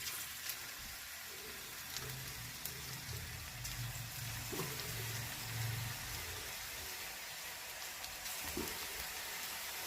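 Bora fritters of dough with chilies fry in hot oil, giving a steady, low, hissing sizzle throughout with a few faint soft bumps. No voices.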